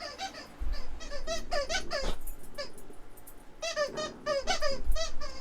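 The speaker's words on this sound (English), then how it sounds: "If you hear a squeaking in the background, that is my dog Floki playing with his new chew toy." A dog chews a squeaky toy, producing rapid bursts of sharp squeaks in quick clusters with a short pause midway, loud and close with no talking.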